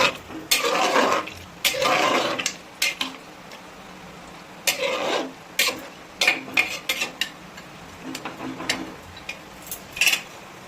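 Spoon scraping and clanking in a cooking pot as mutton is stirred with garam masala, a run of close, irregular metallic knocks and scrapes with short pauses between strokes.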